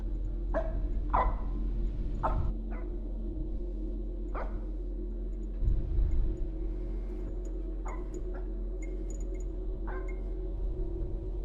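A dog barks several times in short separate yelps, heard somewhat distant over a steady low electrical hum and room noise indoors, with brief quieter gaps between barks.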